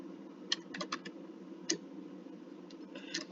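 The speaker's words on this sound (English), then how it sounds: "Something wrong with my typing today." Fingers tap on a computer keyboard while entering router commands, a quick irregular run of close, crisp keystrokes over a low steady hum.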